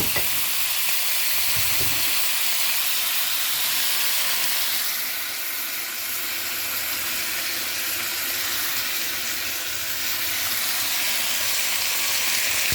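Marsala wine splashed into a hot pan with Dungeness crab, lobster and baccalà for a zuppa di pesce, giving a loud, steady sizzle and hiss that swells slightly midway and carries on unbroken with no talking.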